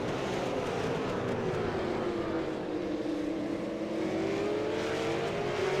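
V8 Supercar racing engine in an online racing game at Twin Ring Motegi, a loud continuous high-revving whine that climbs and falls in pitch as the car pushes through fast chicanes, with no talk.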